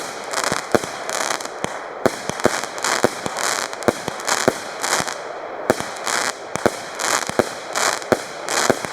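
Fireworks from a 20 mm shell: a rapid series of sharp bangs and pops in an irregular rhythm over a dense crackling hiss, loud and continuous outdoors with no talk.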